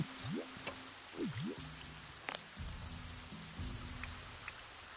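Rain in the VR god game Deisim, a steady broadband hiss of falling drops filling the scene, with a few tonal game effects and brief blips sweeping over it; no one talks.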